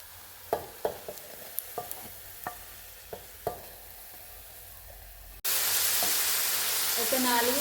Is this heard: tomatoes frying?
yes